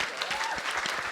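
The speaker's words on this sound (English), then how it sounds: "I think she deserves an applause." Audience at a Barbican aftershow panel applauding a campaigner: brisk, dense clapping filling the hall, steady and fairly close, with a faint voice briefly mixed in.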